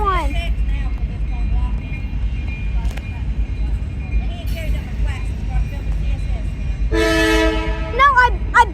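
A CSX mixed freight train led by two locomotives rumbles past at close range with a steady low roar, and a loud horn blast sounds near the end.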